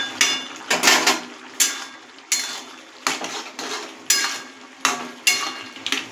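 A metal spatula scrapes and knocks against a cooking pot while vegetarian pumpkin curry is stirred, giving about eight rhythmic, clattering strokes, each fading quickly, close and clear with no talking.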